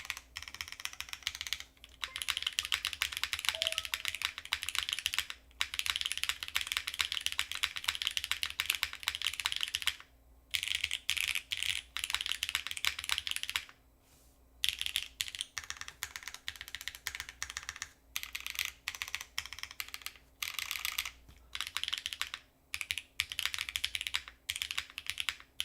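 Steady, fast typing on an Athena mechanical keyboard with an aluminum gasket mount and PC plate, close and clear, with a few brief pauses and no talking.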